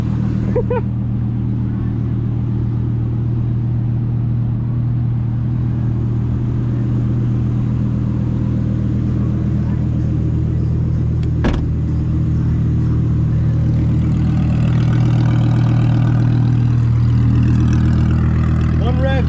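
A 2025 BMW M4 Competition xDrive tuned to 900 hp runs loud and close, a steady low engine drone with one sharp burst near the middle and a rising rev toward the end, with someone talking over it.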